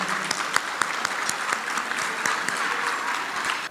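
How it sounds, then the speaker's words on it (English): An audience at an awards gala applauds with a dense, steady wash of clapping that carries on for a few seconds. "Let's give a round of applause to Alyssa and Lauren from Eventing Tampa Bay"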